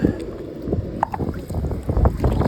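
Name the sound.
wind blowing outdoors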